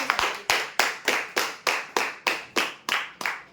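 Rhythmic clapping in unison for winners at a prize draw, about a dozen sharp, evenly spaced claps with a ringing echo after each, with no voices.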